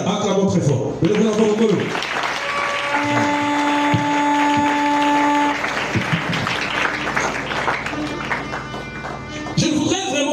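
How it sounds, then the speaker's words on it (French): Church congregation applauding loudly together, steady dense clapping filling the room with sustained tones and voices mixed in throughout. "Acclamons très fort."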